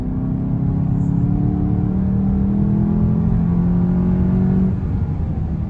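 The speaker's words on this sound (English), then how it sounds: "there's a Sound Actor making some phony race car sounds" A steady synthetic engine drone hums and slowly rises in pitch, like a revving motor piped through the cabin speakers of a 2021 GLI with a DSG gearbox in sport mode, with no talking.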